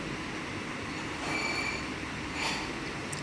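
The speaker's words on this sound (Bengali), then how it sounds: "এখন আমি কিছু চিংড়ি মাছ দিয়ে দিব।" Shrimp dropped into hot oil for a Bengali radish-and-vegetable curry sizzle with a close, steady hiss and faint high squeals, and no one speaking.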